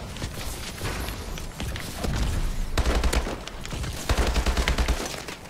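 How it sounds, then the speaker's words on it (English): Enemy gunfire in Call of Duty Advanced Warfare, close and loud, with repeated bursts of rapid automatic shots and a steady pounding rhythm in the latter half, and no talk over it. "Four enemy members are shooting at me."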